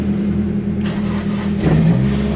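A Honda S2000 with push-button start turns over and its engine runs in a close, steady, mid-pitched hum, with a surge partway through.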